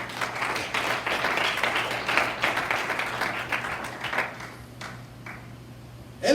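A church congregation at a Sunday service claps together in a dense, sustained burst of applause that thins out and fades over several seconds.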